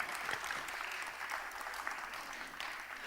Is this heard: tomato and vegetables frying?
no